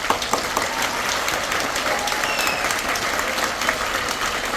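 Cruise ship passengers applauding the crew aboard a vessel arriving at Hamburg, loud sustained clapping from a close crowd with a few sharper individual claps standing out.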